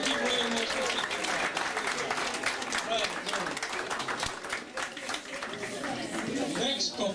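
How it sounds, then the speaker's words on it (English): Applause from guests at a party after a couple's dance, sustained dense clapping from a crowd filling the whole stretch, loud and close, with voices mixed in. "So please, a round of applause for Brother and Sister Rankin"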